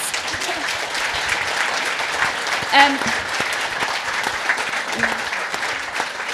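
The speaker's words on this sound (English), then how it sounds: "A huge round of applause." Audience applause for a conference panel, steady and moderately loud for the full stretch, with a brief voice or cheer rising through it midway.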